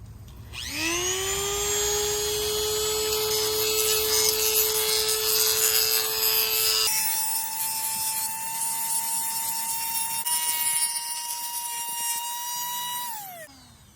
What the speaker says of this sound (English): I'm gonna go grab the Dremel and see if I can get this to fit